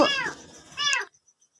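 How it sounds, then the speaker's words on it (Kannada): A kitten gives two short, high meows close by, the second slightly shorter, followed by near silence with a few faint ticks. "ಅವ ಬೆಕ್ಕಿನ ಮರಿ ಒಂದು ಒದ್ರುದು"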